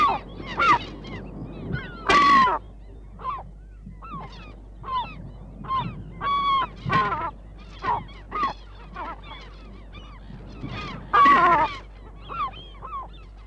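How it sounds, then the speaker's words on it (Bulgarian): Herring gulls call repeatedly in loud, nasal, yelping cries, some drawn out and some clipped, near and clear over a low steady hum, with bursts of overlapping calls. "А за сребристата чайка, гларуса, и есента е подходящ за обаждане сезон."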